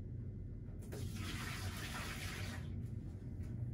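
A sink faucet runs as a wash basin is emptied, giving a steady close gush of water that swells and then stops near the end, with no talk.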